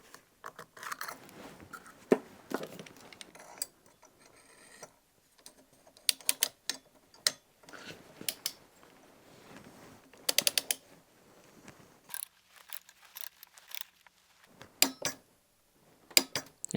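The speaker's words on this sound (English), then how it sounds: "I got my actual automotive grade click style torque wrench, and that is what I'm using to tighten these things" Automotive-grade click-style torque wrench tightening fasteners on a house fire sprinkler setup to 14 foot-pounds, giving sharp ratcheting clicks in scattered bursts with quiet gaps, close and fairly faint.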